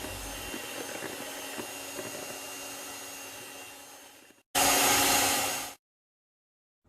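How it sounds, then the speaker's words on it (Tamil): An electric mixer grinder blends egg, oil and garlic into mayonnaise with a steady whirring drone that fades out. After a short gap comes a brief louder burst, then it stops. "நீங்கள் மிக்சியில் கார்லிக் மயோனைஸ் இதே போல் செய்யும் போதும் மிக்சியை கொஞ்சம் இடைவெளி விட்டு நிறுத்திட்டு"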